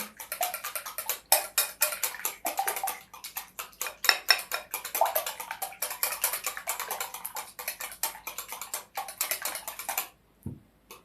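A spoon stirs ground spices and black pepper into a meat-dish filling, a fast run of close clinks and scrapes against the bowl that continues for about ten seconds before stopping.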